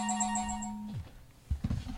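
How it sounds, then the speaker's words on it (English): A phone rings in two quick electronic trills, then cuts off and a few soft knocks and thumps follow, at moderate loudness with no talking. "I apologize about the phone ringing here"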